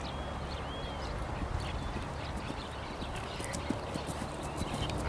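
Steady rhythmic hoofbeats of a horse moving at a trot and gallop over ground, with a constant outdoor background; no voices.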